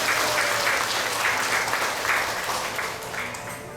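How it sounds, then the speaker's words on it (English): Audience applause fills a temple hall at a Ramayan satsangh, steady dense clapping throughout, gradually thinning toward the end. "Give her another round of applause, please."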